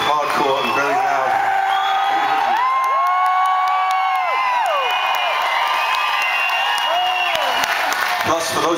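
A small but very loud concert crowd in Exeter cheers and screams, with shrill whoops and yells rising over steady roaring applause throughout.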